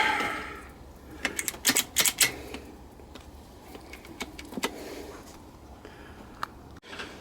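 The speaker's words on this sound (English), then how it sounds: "I'm just installing the oil drain plug there." A steel oil drain plug with a fibre washer is threaded into a Honda C90E engine casing using a 17mm spanner. Sharp metallic clicks and ratchet-like taps come in quick clusters, close and clear, with no voices.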